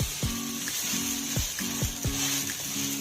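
Ghee sizzles steadily under an onion dosa on a hot pan, a soft continuous hiss with a few faint repeated taps or clicks layered over it, and no talk present.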